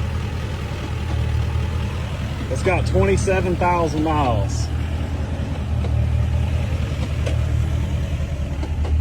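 A 2022 GMC Denali Duramax diesel truck idling in park with a fault, its steady low rumble running throughout close by while someone talks briefly over it.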